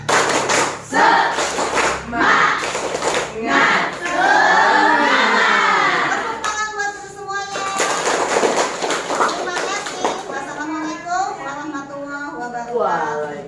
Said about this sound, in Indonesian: Mulai ya, tepuk semangat.